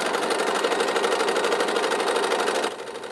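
A sewing machine quilts through four layers with a regular needle, running in a rapid, steady mechanical rattle with a popping quality close by, then slowing and quieting near the end.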